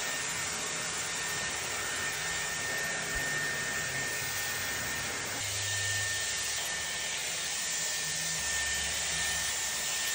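A handheld hair dryer blows steadily and close up for the whole stretch as long hair is roughly dried after a wash, a continuous loud airy roar that shifts pitch slightly as it is moved.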